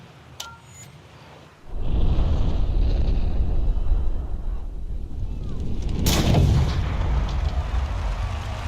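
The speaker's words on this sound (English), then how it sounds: "There's the Happy Gilmore drive right there" A golf ball is struck with a driver using a running Happy Gilmore-style swing at Pebble Beach, heard as one sharp, loud crack over steady wind noise.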